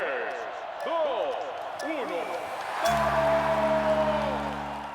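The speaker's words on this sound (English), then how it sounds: "we've got the announcer car horn, which sounds a bit like this." Announcer-style car horn from the video game Forza Horizon 5 enters midway as a loud, sustained chord of steady tones that holds to the end, following a stretch of busy chirping game sounds.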